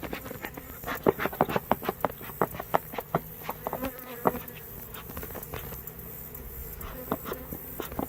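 Honey bees buzz around three newly installed nuc hives on a farm, their soft drones rising and fading as individual insects pass close by in quick, irregular flybys against a quiet outdoor background.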